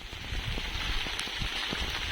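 Light drizzle falling outdoors in a village, soft scattered patter of drops with faint irregular taps over a steady hiss.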